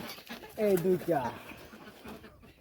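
A pigeon gives a short, throaty coo, close by, with people talking softly in the background.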